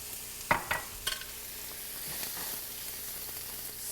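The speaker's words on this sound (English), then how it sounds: "saute it for about a minute or 2 until it turns translucent and slightly changes color to light pink maybe." Half a cup of chopped onion sautéing in cooking oil gives a soft, continuous sizzle, broken early by a few sharp stirring clatters, then settling into a steady hiss.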